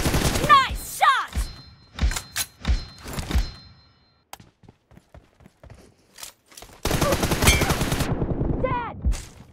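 Gunfire in a shooter video game: close, loud bursts of shots and a long sustained volley, with short quiet gaps holding clicks and thuds. Voices call out between the shots.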